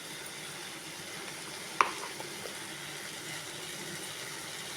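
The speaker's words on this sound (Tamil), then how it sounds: "அப்படி அந்த சூட்டோடையே லேசாக வதக்கிடுவோம்." Ridge gourd chutney with asafoetida sautés in a pan over low heat, giving a faint, steady sizzle with one soft clink of a spoon partway through.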